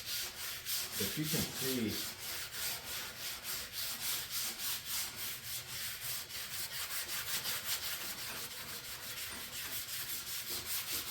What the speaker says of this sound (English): we're going to wet sand this a little